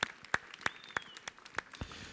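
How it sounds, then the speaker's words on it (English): A few sparse, distinct hand claps ring out for the executive chef of a cafe team at a Thanksgiving gathering, roughly six sharp slaps spaced about a third of a second apart, thin and moderately close with no voices. "Please give him a round of applause."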